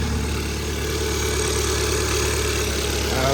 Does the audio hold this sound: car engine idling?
yes